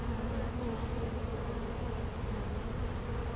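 Dense, steady buzzing of a honeybee colony inside a hive in an old oak tree, a continuous close swarm drone lasting throughout with no voices.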